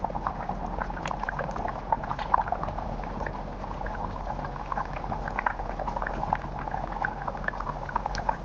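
Goat head curry bubbles steadily in a pot on the stove, a close, continuous simmer full of small popping bursts, with no voices over it.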